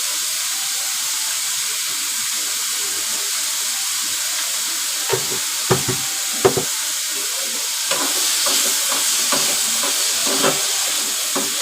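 Tomatoes frying in a pan for a Malvani-style dry prawn curry, with a steady close hiss and sizzle throughout and a few soft stirring clicks and knocks partway through.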